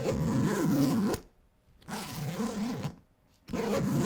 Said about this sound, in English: These zippers are lined with a protective coating to block out any kind of rain or moisture